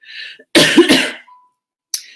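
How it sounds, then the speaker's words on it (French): An adult coughing from an allergy, a soft breathy exhale followed by two loud close harsh coughs, then a short sharp cough at the end. "Je tousse encore un peu"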